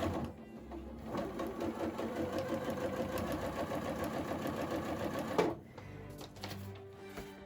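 A sewing machine stitches the seams of a modern quilted pillow, running in a steady close rapid chatter for several seconds before slowing and stopping, then a few lighter handling clicks.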